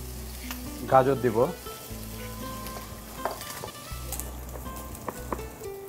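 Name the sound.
onion and carrot frying in a pan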